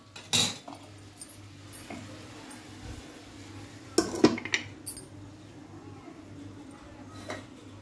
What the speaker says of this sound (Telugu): మధ్యలో కలబెట్టుకుంటాం.